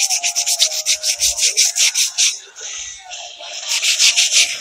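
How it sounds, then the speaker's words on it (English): 80-grit sandpaper worked by hand over bondo filler on a car body piece, making loud, close, rhythmic back-and-forth rasping strokes in a steady series, with a brief pause midway before the strokes resume. "So I'm going to swap back to that 80 grit right here that I was using earlier. And I'm just going to use my hand for it this time."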